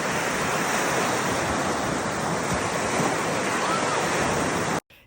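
Waves roll in at Sterling State Park beach in Michigan, a steady, loud broadband rush of surf and wind that continues without a break before cutting off abruptly near the end.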